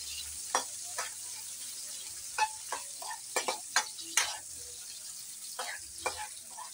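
Onions fry in a pan with a faint, steady sizzle, broken by a scattering of sharp clicks and scrapes as a utensil stirs them, close and quiet.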